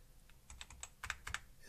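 Computer keyboard keys are tapped in a quick, uneven run of clicks while a PC boots from a USB flash drive, close and fairly quiet, with no voices.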